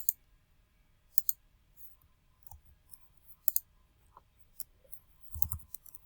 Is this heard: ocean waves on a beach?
no